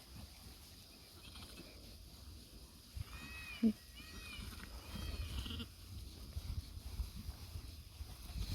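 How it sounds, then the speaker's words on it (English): A few faint sheep bleats come from a distance around the middle, over a steady outdoor wind-like background hiss. "So we're going to follow these sheep now."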